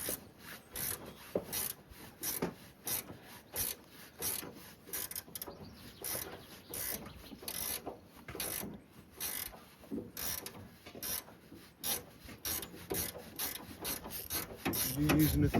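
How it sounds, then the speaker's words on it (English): Metallic ratcheting and rubbing from a spanner working on a Triumph 1500 engine, in a quick, regular series of clicks repeated throughout at moderate, close level, with no talk. "You're using a 13mm spanner."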